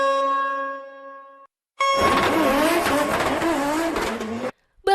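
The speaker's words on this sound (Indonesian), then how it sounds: "mereka berdua tetap menggeber mobil dengan kecepatan luar biasa" Race cars driven flat out during a night race: a steady engine tone gives way to a loud, dense roar with rising and falling pitch and squealing, close and continuous before cutting off abruptly.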